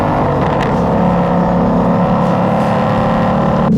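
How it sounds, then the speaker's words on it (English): A loud, continuous exhaust roar from a 2020 Ford Mustang Shelby GT500 on a track fills the clip, a deep rumbling drone held steady throughout with no voices. "That exhaust is amazing"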